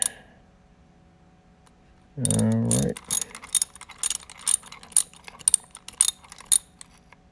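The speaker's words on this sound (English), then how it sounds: "Take the bolt off, and we should be good to go." A bolt is unscrewed to free the horn from a Can-Am Ryker: a brief burst of grinding ratchet-like clatter, followed by a run of sharp, close metallic clicks and ticks in an uneven rhythm, with no talking.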